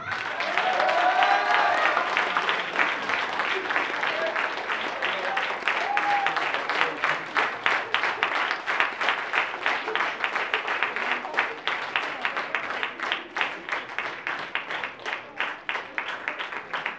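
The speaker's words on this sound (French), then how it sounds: "Je vous demande de l'applaudir très chaleureusement." An audience at a poetry slam in Reims applauds the first slam poet with sustained, dense clapping that starts loud and gradually thins into more distinct individual claps.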